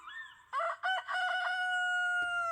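A rooster crows in a video game, one loud, clear cock-a-doodle-doo that rises in short bursts and then holds a long, steady, ringing call close up, with nothing else heard.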